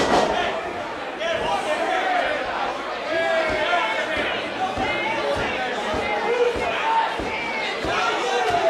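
A wrestler screaming at the crowd during a wrestling show at the White Eagle, loud shouts over a noisy, chattering crowd with scattered thumps from the ring and a commentator talking throughout.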